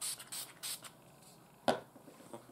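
Face setting spray misted on after makeup: a few short hissing spray bursts close up, followed by a sharp click and faint handling sounds, no talking.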